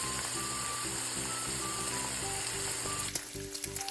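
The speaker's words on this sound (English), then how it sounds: "Getting the cast iron hot. Dropping some bacon." Bacon drops into a hot cast iron pan and sizzles with a steady, crackling hiss. It stays fairly faint against a humming background, and a few louder pops come near the end.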